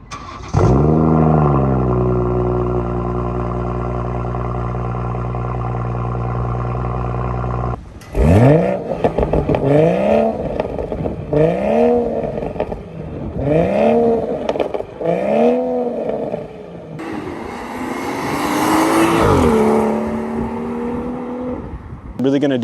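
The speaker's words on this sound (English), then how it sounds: "I'll throw some exhaust clips in here so you can hear it for yourself." A 2018 BMW 440i xDrive with the B58 engine and a modified exhaust idles loudly and steadily, then gets blipped through a series of sharp, repeated revs that rise and fall, ending in a longer, harsher pull.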